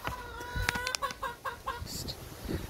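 A hen clucks on a family homestead, making a series of short, rhythmic clucks close by, with a chick's faint high peeps and outdoor background noise around it.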